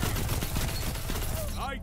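Jiangshi AR4 auto rifle fire in Destiny 2, heard as a rapid continuous burst of gunshots that fills the whole short moment, with game effects chirping near the end.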